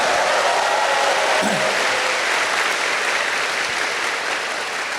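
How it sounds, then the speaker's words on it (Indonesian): Loud, sustained applause from a large campus audience cheering Universitas Terbuka, a dense unbroken wash of clapping that fades slightly toward the end. "Kita berikan aplaus yang meriah untuk Universitas Terbuka"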